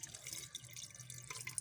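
Water pours in a short, splashy stream into a clay pot of onion, garlic and minced meat, running steadily for a moment with light trickling and dripping near the end.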